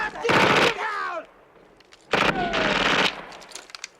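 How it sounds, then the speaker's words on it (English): Full-auto gunfire from the film First Blood, fired inside a mine shaft: two long, loud rattling bursts of rapid shots separated by a quiet gap, each trailing off with a whining echo. "being able to keep his aim that level while firing full auto is very impressive"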